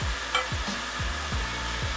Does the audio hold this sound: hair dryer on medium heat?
no